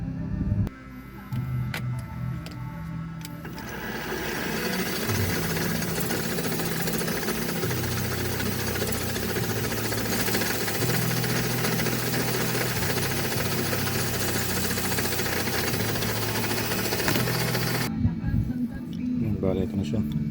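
Machine running during a regulator timing test, a loud continuous mechanical buzz and rattle that starts abruptly and stops after about fifteen seconds, close by.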